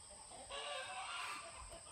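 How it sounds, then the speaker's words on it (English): Chickens cluck and squawk in an agitated flurry on a farm, fairly faint and a little distant, with a rooster-like call rising in the middle. "You hear my chickens freaking out?"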